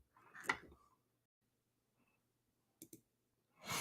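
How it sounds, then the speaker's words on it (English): Computer mouse double-clicked during beat making, a quick pair of crisp, close clicks in a quiet room, with brief soft rustles before and after. "Forgot you gotta double click these things."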